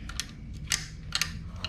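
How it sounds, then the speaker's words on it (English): A few short metallic clicks and scrapes come from a wrench tightening the clutch cable jam nut on an Apollo RFZ DB X-18 125cc motorcycle, close and quiet, spaced irregularly over a faint background. "Tighten your jam nut."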